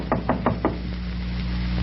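A door knocked again as a radio drama sound effect: four evenly spaced, firm raps up close, then quiet with a faint steady hum underneath.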